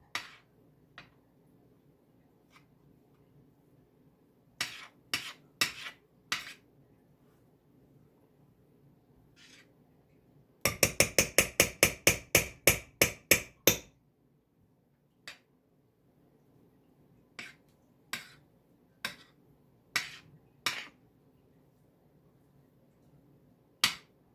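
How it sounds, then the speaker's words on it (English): A spoon stirring pineapple cake ball mixture with lemon frosting in a bowl: scattered sharp clinks and taps, then a quick rapid run of about a dozen rhythmic clicks, close and crisp over a quiet background. "take a spoonful, plop it in there, and mix it up"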